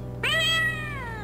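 One clear, loud meow from a cat in the video game Ravenloft: Strahd's Possession. It rises, holds, then falls away slowly over a low, steady in-game background hum.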